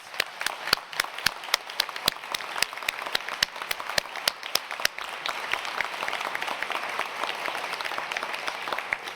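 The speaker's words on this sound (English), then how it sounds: "A round of applause." Parents and partners in a graduation audience give a round of applause, with sharp individual claps standing out over a dense, steady patter of many hands, held at moderate loudness.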